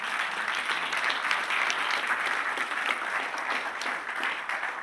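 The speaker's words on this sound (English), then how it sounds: "We can give them a round of applause." An audience gives steady, moderately loud applause after a panel discussion at an Asteroid Day festival, an even wash of many hands clapping with little else.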